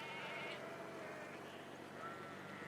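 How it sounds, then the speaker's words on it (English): Distant sheep bleating in Wyoming's Bighorn Mountains over a steady outdoor background hiss, with a few faint calls rising and fading across the stretch. "Turns out the Bighorn Mountains houses a ton of sheep."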